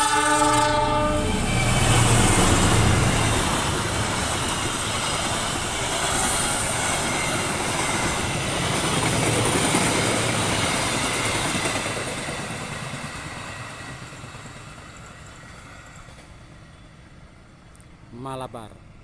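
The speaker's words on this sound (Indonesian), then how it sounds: "Mari kita tunggu lewatnya kereta" The Malabar long-distance passenger train rushes past close by, a loud roaring rumble of wheels and carriages with a brief horn at the start, slowly fading as it moves away until a short clatter near the end.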